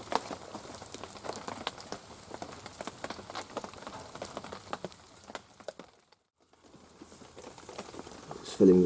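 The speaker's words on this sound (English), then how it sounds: "Absolutely tipping it with rain." Heavy rain pattering steadily on a wild camp in a downpour, a dense crackle of drops that briefly drops out near the end before resuming.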